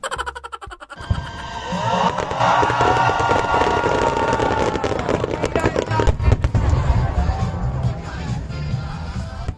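A pyromusical fireworks display at MOA in the Philippines in full swing: dense crackling bursts and booms layered over a cheering, shouting crowd nearby, continuous and loud.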